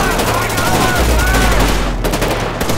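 Automatic gunfire in GTA 5 during a zombie survival mod, a loud dense stream of rapid shots firing continuously and close.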